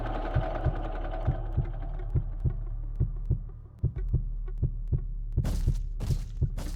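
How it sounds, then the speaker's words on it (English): Rhythmic heartbeat thumps from the heartbeat puzzle in the Roblox horror game DOORS, about ten evenly spaced low beats over a steady hum, with a few bright bursts of game effects toward the end; no talking. "you'll need to do a heartbeat puzzle like on screen"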